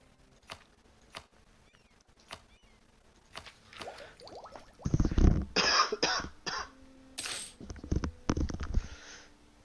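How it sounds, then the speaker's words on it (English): Several harsh coughs burst out in a row, muffled and slightly off-mic, over a quiet room with a few faint clicks before them. "You guys don't have to hear the full strength of that goddamn cough."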